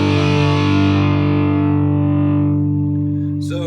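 Electric guitar played through a Thermion Gasoline distortion pedal set to raw: one loud, heavily distorted chord rings out and slowly decays, ending with a brief scrape of string noise.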